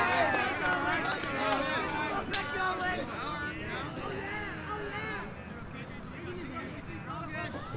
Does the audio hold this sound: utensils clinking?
no